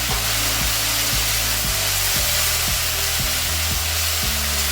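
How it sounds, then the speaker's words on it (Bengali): Ginger, cumin and chili paste frying in hot oil with browned onions for a Bengali prawn and banana flower dish, a loud, dense close sizzle with a rhythmic low thumping beneath it. "আদা জিরে লঙ্কা বাটা দিয়ে দিলাম।"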